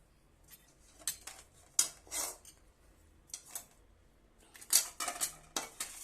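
Dry nippattu dough ingredients of peanuts, roasted gram, dried coconut, semolina, sesame, cumin and spices being mixed in a metal bowl, with a run of close, uneven scraping clinks and rattles in quick bursts and short pauses between them.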